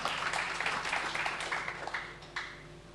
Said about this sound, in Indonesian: Tepuk tangan dulu buat Allah kita.